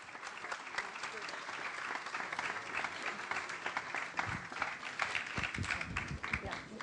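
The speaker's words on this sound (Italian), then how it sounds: "Un applauso per la signora Roberta Cozza e per Michela Casu" An audience at a ceremony honoring victims of duty applauds for a firefighter's wife and daughter, with dense, continuous clapping that comes across as fairly quiet and distant throughout.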